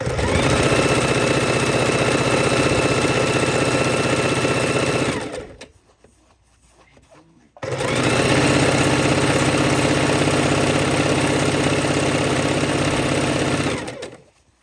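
A sewing machine stitching quilt fabric strips on a quarter-inch seam, a fast loud mechanical chatter that runs for about five seconds, pauses briefly, then runs again for another six seconds.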